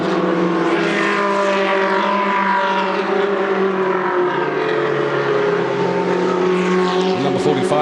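Ferrari Challenge race cars on the rolling lap at Monza drone steadily and loudly, their engine notes layering and shifting pitch as they weave along in a tight pack, with no break in the roar.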